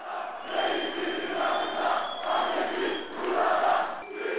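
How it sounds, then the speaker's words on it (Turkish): A large crowd in a hall in Diyarbakır chants a slogan for Erdoğan in loud rhythmic waves, voices swelling and falling in repeated phrases, filling the room. "Salondan Biji Serok Erdoğan, yani Yaşasın Başkan Erdoğan sloganları yükseldi."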